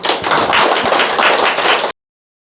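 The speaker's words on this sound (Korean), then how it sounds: "박수 한번 부탁드립니다" Enthusiastic clapping from a lecture audience, a loud, dense burst of many hands that cuts off abruptly after about two seconds.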